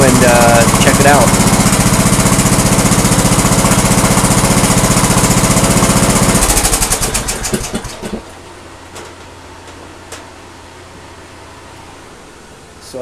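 Lawn tractor engine idling loudly and steadily, then shut off around the middle, its rumble dying away into quiet background with a few faint clicks.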